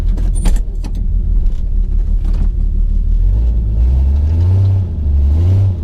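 A 1966 Plymouth Valiant engine cranks with key jangling, catches and settles into a loud, close, rumbling idle with a few throttle blips.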